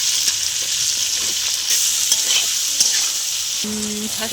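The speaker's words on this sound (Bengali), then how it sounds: "পেঁয়াজটা ভাজা ভাজা হয়ে এসছে" Onion fries in hot oil with dried red chilli, bay leaf, whole cumin, cardamom, clove and cinnamon, giving a steady loud sizzle with occasional stirring clinks and scrapes and no talking.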